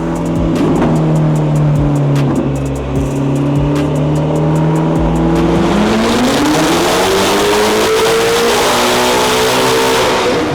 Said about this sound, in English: let's get right into it with some runs with the Sol exhaust to see just how much power this car puts down to the wheels